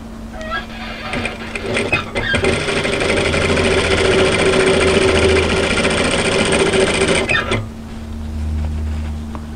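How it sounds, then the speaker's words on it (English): A sewing machine sews through overlocked hoodie fabric toward a mitred hem corner, a close, loud, steady whirring run of about five seconds with quieter handling sounds before and after. "we're going to sew through the overlocking all the way down towards the mitre"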